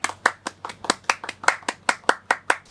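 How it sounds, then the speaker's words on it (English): A small group clapping for an esports team on an Apex Legends show, about a dozen crisp, evenly spaced claps in a steady rhythm, close and clear. "A round of applause for Element 6"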